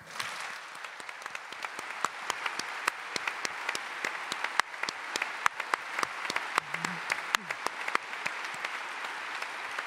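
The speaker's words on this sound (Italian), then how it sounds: "interrompo un secondo l'applauso" Audience applause at a meeting after a talk on the experience of illness: sustained, fairly distant clapping from many hands with sharp individual claps standing out, steady throughout.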